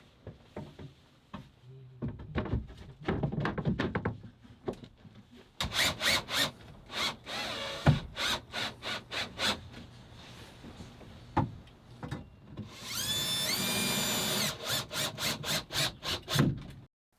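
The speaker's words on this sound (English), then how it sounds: "I'm going to drill some holes in my frame, then screw the countertop up from the bottom." Workshop noises with repeated short bursts of tool sound and scraping while drilling holes in a wooden frame for a camper van build, including a sustained high whining drill run near the end, close and loud.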